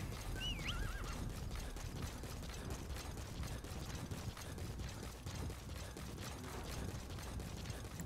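A horse whinnies briefly near the start in the video game Metal Gear Solid V: The Phantom Pain, over a busy, noisy background with steady clip-clopping hooves and mechanical clatter.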